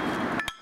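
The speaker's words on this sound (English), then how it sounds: "The pounds of a hammer to metal." A hammer strikes a metal cross in a single sharp clink that rings briefly over a broad steady background wash.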